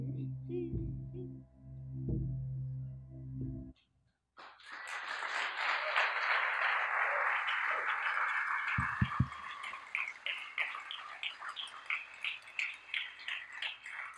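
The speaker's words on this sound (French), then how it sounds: "Merci, ça fait chaud au cœur de vous entendre applaudir" After a few seconds of music and a brief silence, an audience at a documentary film screening breaks into sustained applause. The clapping stays dense and steady, then thins into more distinct, rhythmic claps toward the end.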